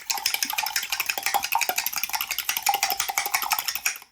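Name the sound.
eggs being mixed in a cast iron pan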